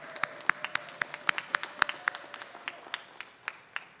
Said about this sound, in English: could we have a round of applause for our 2021 Fay Jones School of Architecture and Design graduates?